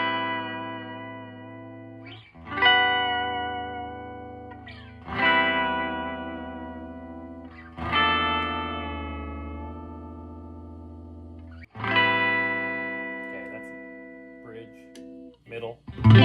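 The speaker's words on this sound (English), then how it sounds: "So I'm going to tune up and then we'll get a clean," An electric guitar is tuned up, with single notes plucked and left to ring out one after another, each decaying slowly before the next, at moderate loudness and with no talk over them.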